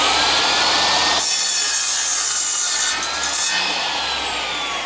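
A hand saw cutting through wood, with steady rasping strokes that pause briefly partway through, loud and close with no talking.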